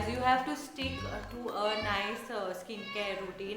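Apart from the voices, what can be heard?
cat meowing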